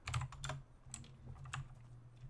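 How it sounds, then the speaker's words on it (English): Rapid clicky computer keyboard keystrokes tapping away in a quick uneven rhythm, close and fairly quiet, over a low steady hum, with no one talking. "Sorry about the clicky keyboard once again."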